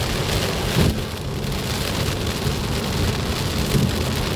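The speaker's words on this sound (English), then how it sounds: "that's a little bit of rain, I would say" Heavy rain falling steadily while driving in a McLaren Artura, a loud continuous hiss and drumming of drops on the car, with low rumbling swells underneath.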